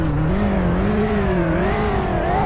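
A car engine revving hard in the Roblox game Greenville, a loud continuous engine whine that rises and falls in pitch, sounding close throughout with no pauses.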